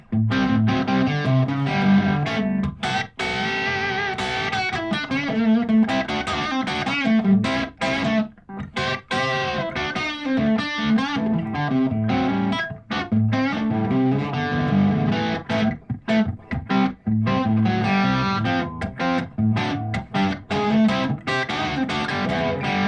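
An electric guitar plays continuously through a reverb pedal with a long reverb setting, giving a dense, washed-out sound with sustained tails, played alone without talk.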